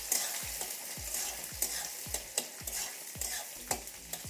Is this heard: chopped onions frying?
yes